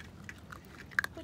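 A baby raccoon chewing on a back porch, a couple of quick close wet bites and mouth clicks over soft background noise.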